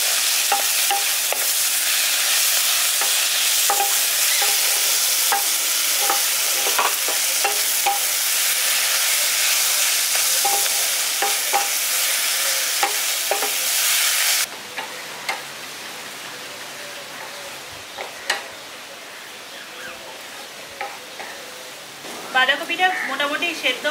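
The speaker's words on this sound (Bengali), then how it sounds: "ভালো করে মিশিয়ে দিচ্ছি" Cabbage and spices with chili powder stirred in a frying pan, a loud steady sizzle with scraping stir strokes for most of the time, then a quieter, sparser crackle with occasional clinks near the end.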